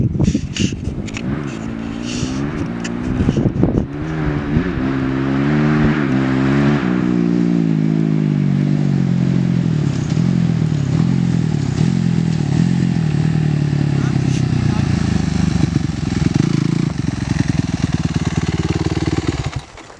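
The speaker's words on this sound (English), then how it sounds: "Pull in the clutch, kick up the gear, let it out, go, gets louder" Dirt bike engine revving up through gear shifts, the pitch climbing and dropping in repeated sweeps as each gear engages, close and loud, then cutting off abruptly at the end.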